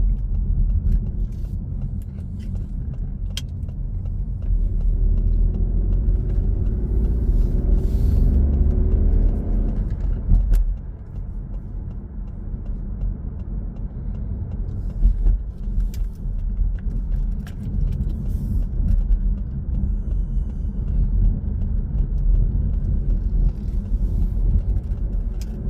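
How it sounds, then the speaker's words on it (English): Car on the A127 toward Southend accelerating up to the national speed limit to merge into lane one: a steady engine rumble and road noise that swells, with a brief dip partway through, then a continuous cruising drone. "I'm building my speed up as much as I can to try and merge into the traffic in lane one"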